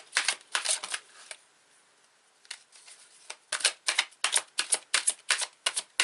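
Tarot cards being shuffled by hand in quick, crisp bursts of riffling, two separate runs split by a quiet pause, then a longer rhythmic series of flicks near and clear with no talking.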